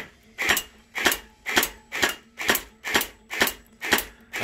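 A HeE M4 Punisher V2 gel blaster fires eight single shots in a steady rhythm, each one a sharp, close snap about half a second apart.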